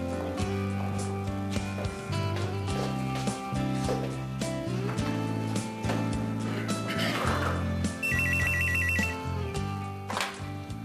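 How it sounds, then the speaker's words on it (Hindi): A telephone rings in an office setting, its bell trilling briefly amid background music and a busy mix of sounds, with a short ringing burst near the end. "मिस डारिया का फोन है सर"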